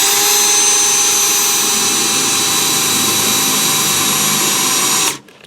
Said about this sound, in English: So let me drill a hole down here.